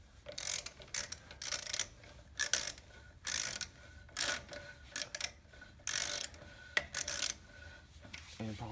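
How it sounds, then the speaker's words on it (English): A ratcheting wrench tightens bolts on a leveling kit for a 1995 Ford F-150. Close, repeated bursts of rapid metallic clicking come in short strokes, separated by brief pauses. "Grab the wrench. Oh. We're just gonna tighten down a little bit more."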